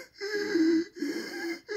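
A man imitates wheezing, choking breathing: three strained, raspy, drawn-out gasping breaths in a row, close and fairly loud, with short silent gaps between them.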